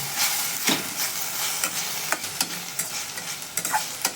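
A mixture seasoned with turmeric, for an egg roll filling, is stirred in a hot pan, giving a continuous frying sizzle with a quick series of scraping utensil strokes.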